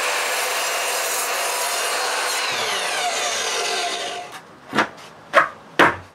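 A saw cuts a wooden piece to fit the shape of a concrete post for a firewood carport, a continuous rasping stroke that fades out, followed by three sharp knocks or taps.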